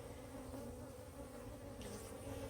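Honey bees buzz at a hive in a steady, dense drone, faint and continuous throughout.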